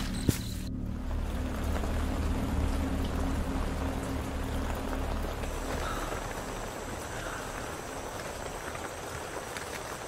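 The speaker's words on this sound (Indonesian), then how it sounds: "Dan ini juga tiba-tiba untungnya turun hujan." Rain falling on a tent during a night camp, a dense steady hiss and patter close around, continuous from start to finish with no talk.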